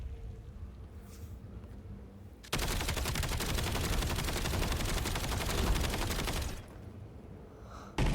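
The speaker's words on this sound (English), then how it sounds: "I'm firing into a ballistic shield because that's going to work." Sustained automatic gunfire into a ballistic shield in Black Ops 7, a loud dense burst lasting about four seconds between quieter game ambience.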